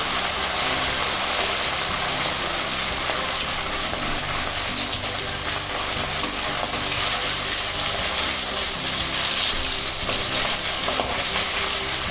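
Marinated fish frying in oil on a stove at medium heat, a continuous dense sizzle and crackle that stays close and even throughout, with no talking.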